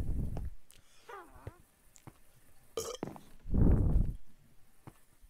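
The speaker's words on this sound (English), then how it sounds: "That was me burping my non-existent food in my belly." A person burps loudly during a cooperative Minecraft session, a low rough belch near the start and another longer one later, mixed with faint game sounds and brief voices.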